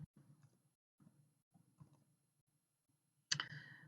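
Keys tapped on a computer keyboard while entering a search term, coming in short, quiet bursts of clicks separated by pauses, with one louder sharp clack near the end.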